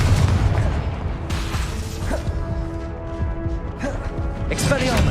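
A Confringo fire spell explodes in Hogwarts Legacy, a booming burst with crashing impacts over a dense game soundscape, repeated hits over several seconds.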